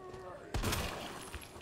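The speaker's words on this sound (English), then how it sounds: "that was like an instant fucking head explosion" A sudden sharp gunshot bursts a zombie's head in Resident Evil 2, a loud crack followed by a wet, crunching spatter that fades into a brief rumble.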